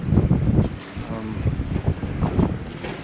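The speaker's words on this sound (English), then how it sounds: "it's a little windy" Gusty wind buffets the microphone in uneven bursts aboard a sailboat off Grenada and Carriacou, a rough low roar swelling and fading with no voices.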